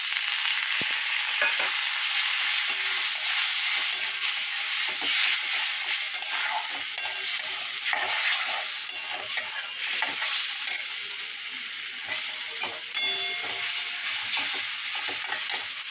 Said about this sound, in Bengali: মশলাটা দিয়ে একটু নাড়াচাড়া করে মাছের মাথাগুলো দিয়ে দেবো